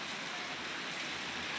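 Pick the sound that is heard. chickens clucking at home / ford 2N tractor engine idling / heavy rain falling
heavy rain falling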